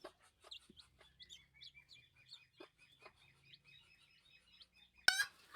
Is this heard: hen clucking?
yes